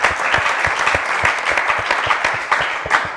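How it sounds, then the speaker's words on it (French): Studio audience applauding loudly to welcome a guest on a French-language talk show, close, crisp, continuous clapping with individual claps standing out, steady and unbroken throughout. "Je vous demande d'applaudir bien fort et on va applaudir chaque invité aujourd'hui."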